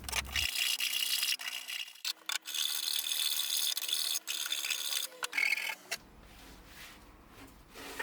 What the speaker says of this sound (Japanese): ノコギリで、そしてヤスリで角を丸くしておきます。